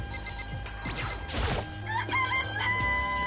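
Chicken crowing from the video game Danganronpa: a short rooster call breaks in after a crash-like burst, standing clearly above steady background game music, with no talking.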